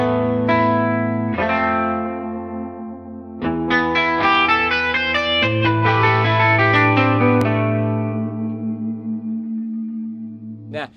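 Clean guitar tone from the Shreddage 3 Jupiter virtual guitar instrument, a series of ringing chords and sustained notes with some chorus-like shimmer, played loud and alone for about ten seconds.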